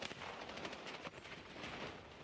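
A grenade blast and gunfire in a Call of Duty esports match, a dense, continuous wash of rapid shots and booms, fairly loud and busy throughout with no clear voice over it.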